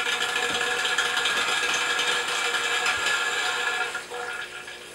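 Water rushing through RO/DI system filter cartridges, a steady hissing flow with a faint rattle, easing off near the end, no talking.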